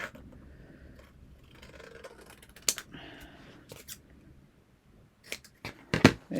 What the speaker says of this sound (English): I'm just going to use my scissors to kind of